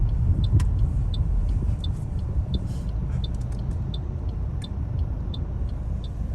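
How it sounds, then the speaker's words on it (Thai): A taxi driving along a city road, heard from inside the cab: a steady low engine and road rumble with a faint, regular ticking over it throughout. "เนี่ยแท็กซี่คนนี้ขับรถนิ่มมากครับ"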